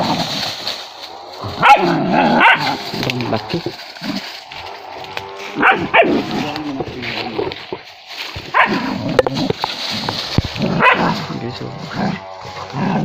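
A hunting dog barks and yips repeatedly in a forest during a hunt, close and loud in irregular bursts, with someone talking excitedly between and over the barks.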